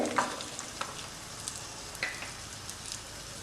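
Ginger, garlic and green chillies sauté in a pan, giving a soft, even crackling sizzle with a few light clicks of a spoon stirring, moderately close and quiet, no voices.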